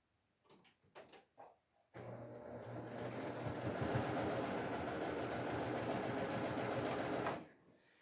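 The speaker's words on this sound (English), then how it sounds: "I tend to pick up my first 2 pieces and sew them" A few light handling taps give way to a sewing machine running in one steady burst of about five seconds, close and even-paced, while quilt pieces are chain pieced, then stopping abruptly.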